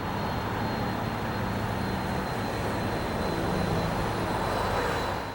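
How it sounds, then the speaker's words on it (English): Airbus Beluga cargo aircraft coming in to land, a steady, loud, broadband engine roar that holds throughout with a faint high whine on top. "he has arranged with the pilot flying one of the Airbus Belugas to time his landing just as we stop by"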